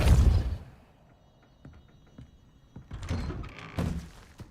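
The Depulso force-push spell fires in Hogwarts Legacy on PS5: a heavy thudding blast opens, then quiet, then two more forceful thumps close together near the end.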